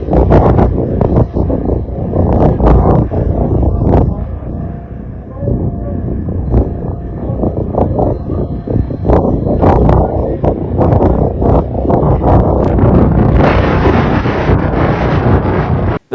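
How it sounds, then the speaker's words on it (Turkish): Strong wind buffets the microphone at a grass field fire, a loud continuous roar with gusting rumble throughout and a brighter hiss building near the end. "şiddetli rüzgar sebebiyle otluk alanda yangın hızla büyüdü"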